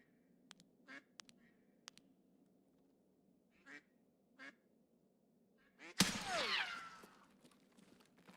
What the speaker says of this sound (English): I know there's a duck at the bottom of these stairs